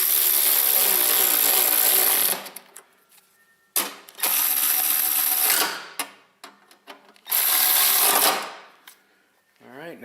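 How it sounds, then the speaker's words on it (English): Screws driven back into an Ariens snow blower with a power tool, three long bursts of high whirring separated by quiet gaps and small clicks of handling. "get these 4 screws back"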